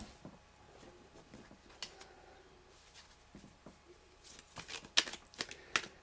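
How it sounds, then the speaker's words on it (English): Tarot cards are shuffled and drawn in a quiet room, soft riffling and papery slides with a few crisp flicks near the end, close and faint. "I'm just going to pull one more card, actually."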